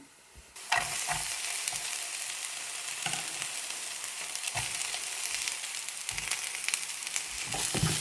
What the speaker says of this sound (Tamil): இப்போ நான் வந்து வெண்டிக்காயை போட போகிறேன்